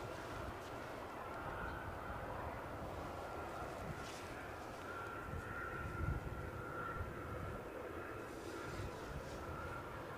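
A fixed-wing airplane landing at Edinburgh Airport gives a steady, broad engine roar that holds for the whole stretch, with a brief swell near the middle and no talking.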